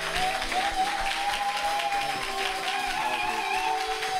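A church seminar congregation applauding loudly, a dense continuous patter of many hands clapping with some cheering, alongside a sustained musical tone.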